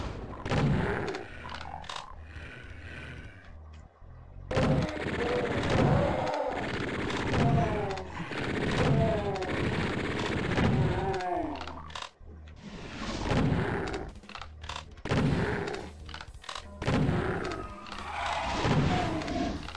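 Super shotgun blasts from Doom 2 repeat in dense volleys, loud and booming, with near-continuous gunfire and impacts across most of the stretch.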